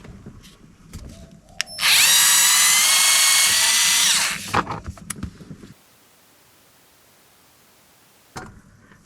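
A power drill whirs loudly for about two seconds as it removes steering column screws on a Hyundai i30, then winds down amid clicks and handling, followed by near silence.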